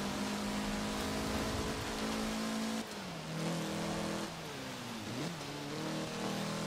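A slow car in the Forza Horizon 4 video game accelerates, its engine droning steadily and fairly loud, the pitch climbing then dipping with gear shifts and climbing again over several seconds.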